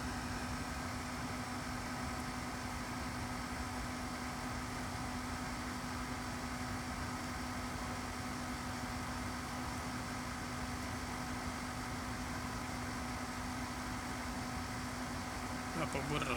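Celcia WAP-02EA20 portable room air conditioner running steadily, a constant even hum with a faint whine, unchanging throughout and close by.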